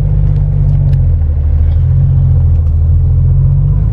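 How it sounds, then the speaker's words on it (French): A Porsche 993 4S flat-six engine runs on a closed road, giving a loud, steady low rumble with a constant drone heard close up from inside the car, no talking. "C'est le flat 6 effectivement. Le flat 6 Porsche."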